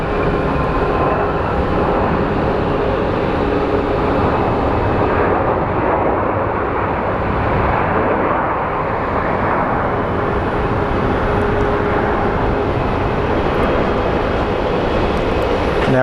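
An airliner roars at Phoenix Sky Harbor airport, a loud, broad and continuous engine rumble that holds steady throughout without any talking.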